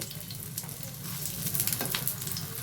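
Aloo tikka fries in a hot pan, a steady close crackling sizzle with faint stirring and no voices.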